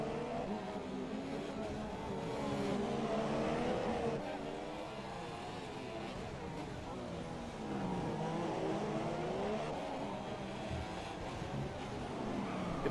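Race cars overtaking inside a tunnel, a dense, echoing engine roar with rising and falling revs as cars pass, steady and loud without pause.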